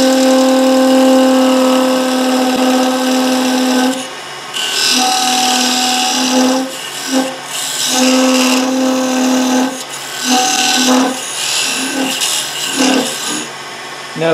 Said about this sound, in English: Now we cut that with the parting tool.